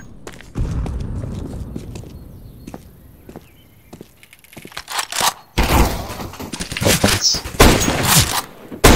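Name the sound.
grenade thrown and exploding in video game CS:GO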